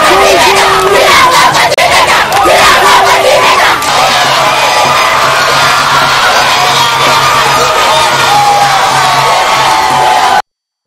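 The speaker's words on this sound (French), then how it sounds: "Avant de prendre un bain de foule à la sortie de l'hôpital de Kitambo." A large crowd cheers and shouts around the president on a walkabout outside Kitambo hospital, a loud, dense roar of yells and whoops with no letup, closely surrounding.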